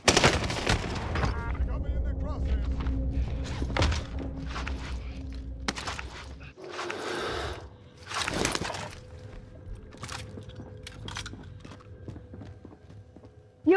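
Rapid pistol fire from a Psycop rapid fire pistol in a video game crackles in quick bursts of sharp shots with scattered footsteps, up close and fairly loud, followed by quieter stretches.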